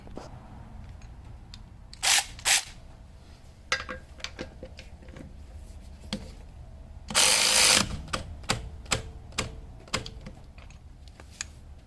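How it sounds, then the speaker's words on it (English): A Harbor Freight Earthquake XT 12V 3/8-inch cordless torque ratchet wrench and a torque wrench tighten a fastener, giving scattered sharp ratcheting clicks and a few louder mechanical bursts, close and otherwise quiet. "I was able to turn this quite a bit before it clicked."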